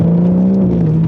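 A BMW G82 M4 with an aftermarket exhaust in M1 mode holds a steady, loud, droning rev, a close and constant engine tone with no voices.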